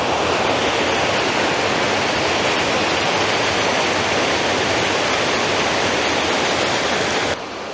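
Loud, steady roar of rushing water pouring through a narrow gorge with waterfalls in Slovenia's Gačnik, Pršjak or Kanomljica ravines, a dense unbroken wash of sound close by throughout.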